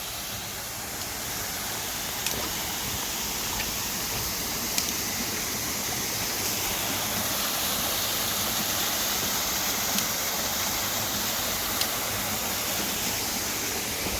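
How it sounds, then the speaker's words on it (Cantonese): Small waterfall in a hillside reservoir park spilling down into the reservoir, a steady broad rushing hiss of falling water heard alone and close, with no voices. "小瀑布位，幾靚"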